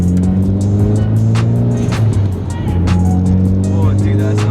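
A Mitsubishi Evo X engine fitted with an AEM cold air intake runs loud and close with a steady droning tone, the turbo spooling as the pitch holds and shifts, with people talking over it inside the car.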